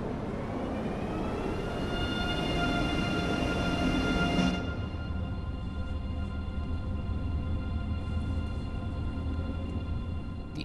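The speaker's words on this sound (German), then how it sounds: "Dieser Zug ist bereit für die Abfahrt." A train departing in Train Sim World 3 on a line running toward the Dutch and Belgian border, with a steady, droning engine and rail hum; a broad hiss underneath cuts off partway through, leaving the tonal whine alone.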